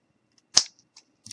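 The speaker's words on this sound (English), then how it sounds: "And I'm just going to trim it up a little with my scissors." Small craft scissors snip once through a tiny wooden stick for a Christmas ornament, giving a sharp close crisp cut followed by a faint click and a brief soft rustle.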